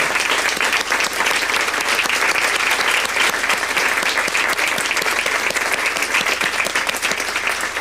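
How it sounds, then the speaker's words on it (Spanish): An audience applauds at a talk on stopping digital violence, a loud, steady burst of dense clapping from a crowd that fills the whole stretch without any voices over it. "Un aplauso para Laura."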